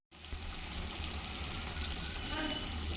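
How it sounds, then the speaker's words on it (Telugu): Corn vadas deep-frying in hot oil give a steady, close, dense sizzle and crackle that runs unbroken throughout, with no one talking. "చక్కగా వేగుతున్నాయి. అలా వేగుతూ ఉండగా మనం ఫ్లిప్ చేస్తూ ఉండాలి."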